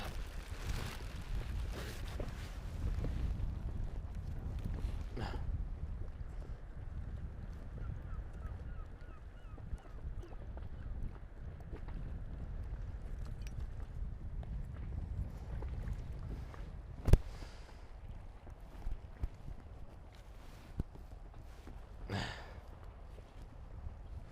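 Small dinghy moving on the open sea, a low rumbling wash of water and wind buffeting the microphone throughout, with scattered knocks and creaks of the boat nearby.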